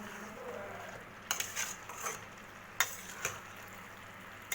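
Fried jackfruit pieces being stirred into a sizzling masala in a pan, a steady low sizzle broken by several scraping, clattering stirs from a spoon against the pan, fairly close, with no talking.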